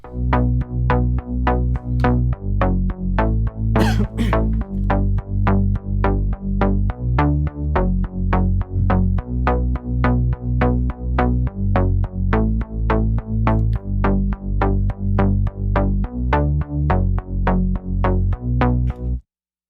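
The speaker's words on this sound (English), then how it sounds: "So when we just listen to the standard bass line," Synth bass line run through a VHS effect and valve compressor, a relentless pulse of evenly spaced, punchy notes with thick low end, loud and steady for about twenty seconds before cutting off.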